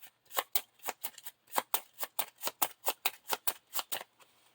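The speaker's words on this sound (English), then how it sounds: "So now this should get shuffled back in." Playing cards from the Lord of the Rings card game are shuffled close by. About seventeen crisp, sharp flicking bursts come in quick, fairly regular succession, with no talk.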